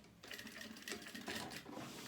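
A sewing machine runs steadily, stitching back over a seam on a notebook cover to reinforce it, its dense mechanical whir continuous and close for the whole stretch.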